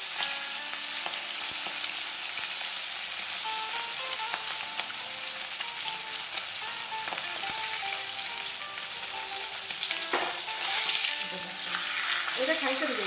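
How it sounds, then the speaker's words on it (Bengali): Fish sizzles steadily in hot oil in a pan, a dense continuous crackle with occasional sharper pops and light stirring clatter throughout. "আমার মাছ ভাজা হয়ে গেছে, এখন আমি সাদাতে মাছগুলো ভাজাগুলো তুলে নেব।"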